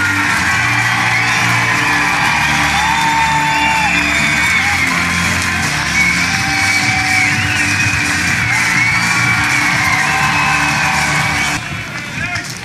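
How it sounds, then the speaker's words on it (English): A packed college baseball crowd at an NCAA regional game between East Carolina and Florida in Conway roars steadily with whoops and yells, loud and sustained throughout before easing slightly at the end. "listen to this crowd"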